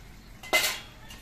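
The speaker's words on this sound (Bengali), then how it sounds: "আর ডাঁটিগুলো আর একবার নেড়ে চেড়ে দিচ্ছি।" A single brief scrape and clatter of a utensil against a pan as cauliflower stalks are stirred, close and quiet against near silence.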